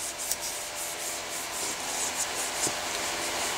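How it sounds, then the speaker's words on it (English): Steady, close rubbing of an oil wipe along a Mossberg ATR 100 rifle, a continuous bright scuffing hiss with small bumps of pressure and no talking. "Wipe it down with oil."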